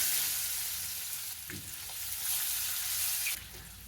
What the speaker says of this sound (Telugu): ఈ తాలింపుని గోల్డెన్ బ్రౌన్ వచ్చే వరకు వేయించుకున్నాం తాలింపు వేగింది ఉల్లిపాయ ముక్కలు వేసేస్తున్నాను